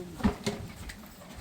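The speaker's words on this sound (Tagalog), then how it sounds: "Kalapati." Two soft, low pigeon coos rise close by in quick succession, then fade into a quiet outdoor background after several days of heavy rain, with no other sound standing out.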